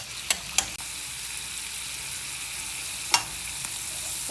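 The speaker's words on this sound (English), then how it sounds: "We're gonna add that on top of this too. And we're just gonna mix it up" Onions, garlic and tomatoes sizzle steadily in a pan with a continuous crackling fry, broken by a few sharp clacks of a utensil stirring them, close and fairly loud with no voices.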